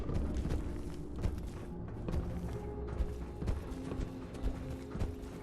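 Creature footsteps inside a building in Fallout 76, hounds moving nearby, a steady clattering run of thuds and clicks in continuous game ambience, with no talking.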